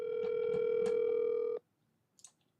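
A telephone ringback tone heard while a call is being placed, a steady loud tone lasting about a second and a half that then cuts to near silence before a brief faint noise.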